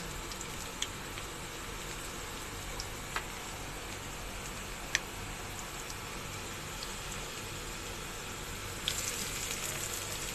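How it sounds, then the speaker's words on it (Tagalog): Garlic sautéing in a pan for tomato pasta, a steady soft sizzle with occasional faint pops and clicks, continuous and fairly quiet with no talking. "And then, saute the ingredients."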